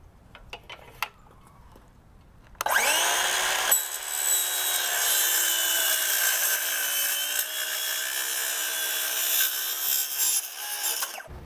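A saw cuts through the metal track of a motorized retractable screen, starting after a short pause with a few light taps and then running as a steady, close, continuous rasping cut with a high ringing edge until the end.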